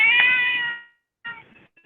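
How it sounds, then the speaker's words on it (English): A cat outside a house gives one clear, drawn-out meow, followed by a shorter, fainter second meow after a pause, close and alone. "There goes this cat."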